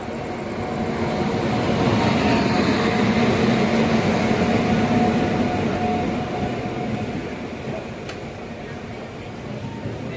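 Ernakulam-Bengaluru Intercity express train running on a double-line route, a continuous rumbling roar of wheels and carriages that swells over the first few seconds and then eases slightly, with a brief high squeal near the end.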